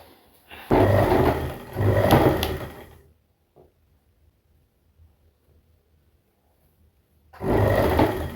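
A sewing machine stitches a pant seam in two close, loud bursts. A quiet gap with a faint tap follows, then the machine runs again.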